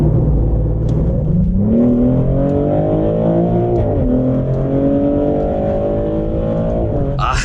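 Loud Maserati GranCabrio/GranTurismo Folgore engine revving up, pitch rising steadily as it accelerates, then easing off, with a deep exhaust growl and no speech.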